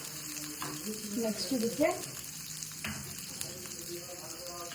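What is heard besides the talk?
chicken frying lightly in a pan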